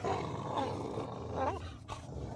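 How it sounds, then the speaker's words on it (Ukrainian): Angry dogs growl in low, rough bursts, faint and somewhat distant against a murky background, with no clear talking. "Дуже зли собаки."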